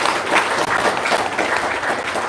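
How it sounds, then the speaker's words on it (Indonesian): An audience at an Indonesian guest testimonial session breaks into steady applause, a dense wash of clapping that holds evenly throughout without pause. "Wow, tepuk tangan dong."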